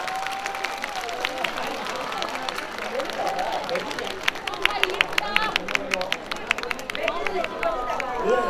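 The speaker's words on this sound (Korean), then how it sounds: "여러분 박수 한번 크게 좀 보내주시면 고맙겠습니다." An outdoor Jindo County Day festival audience claps and cheers in a sustained round of applause that builds and thickens midway, crowd voices mixed in beneath it.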